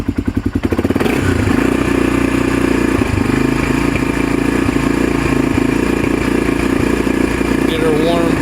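A 1997 Honda TRX300EX ATV engine idles loud and close after a cold start, a steady uneven chugging that settles after a brief rough burst at the beginning.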